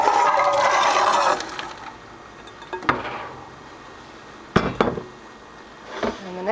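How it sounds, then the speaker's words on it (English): Cucumbers tumble into a bucket of pickle mix with a dense, wet rattling rush for the first second and a half, followed by a few sharp knocks and clatters against the bucket. "And in go the cucumbers."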